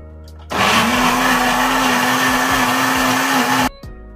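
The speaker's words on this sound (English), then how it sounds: "I have to blend the potato" A blender runs at full power blending potato for a meat pie, a loud steady whir with a constant motor hum that starts abruptly and cuts off cleanly about three seconds later.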